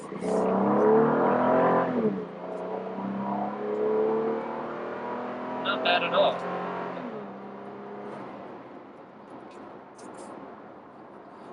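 2015 Toyota Tacoma Limited V6 engine revving on the road, a steady mid-level drone rising and falling under a man's speech, most present at the start and fading toward the end.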